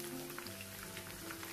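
Pumpkin flower fritters fry in hot oil with a soft, crackling sizzle of fine popping spatters, fairly quiet, steady and close.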